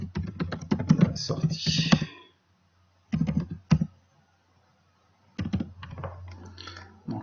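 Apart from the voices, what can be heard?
computer keyboard keys being pressed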